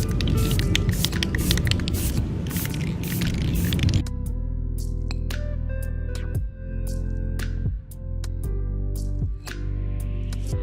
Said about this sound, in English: I'm going to be using this clear acrylic lacquer that I already had in my garage